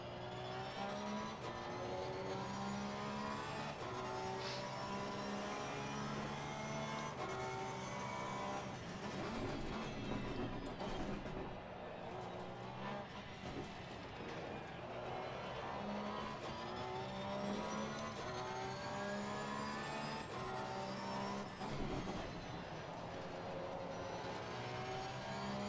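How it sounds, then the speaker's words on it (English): A Porsche 991 II GT3 R race car engine in Assetto Corsa Competizione drones and revs continuously, with a high-pitched transmission whine rising and falling through gear changes, steady and loud throughout. "Listen to that transmission whine."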